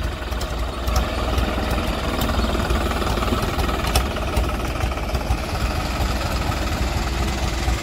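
A New Holland 5620 4x4 70 hp tractor runs steadily with a loud, continuous diesel rumble and vibration, working a field with an 11-tine tiller, with no talk over it.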